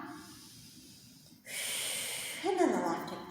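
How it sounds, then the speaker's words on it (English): During a yoga class, a slow breath is drawn in, then a loud, close exhale rushes out with a breathy hiss and a slight snort. "Just breathing in and out."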